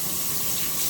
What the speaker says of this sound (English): Okay, wash my hands and check my watch.